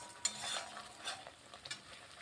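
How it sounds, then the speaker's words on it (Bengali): Spices for a winter vegetable dish are stir-fried in a pan. Faint, soft sizzling sits under a few light scraping strokes of a spoon, with no talking. "এখন ভালোভাবে একটু কষিয়ে নিচ্ছি"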